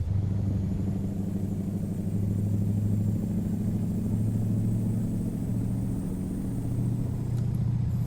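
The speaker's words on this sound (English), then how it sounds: "Listen to that engine." The Mack B61 truck engine in American Truck Simulator revs high and holds at over-revving speed, a loud, steady low rumble that runs the whole clip with no voices.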